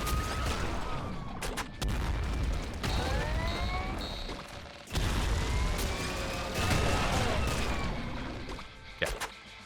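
Nuke explosions and rapid gunfire in Nuclear Throne, a run of sharp blasts and crashes with booming bursts, loud and dense over a busy game soundscape.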